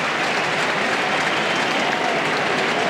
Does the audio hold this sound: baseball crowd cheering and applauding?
yes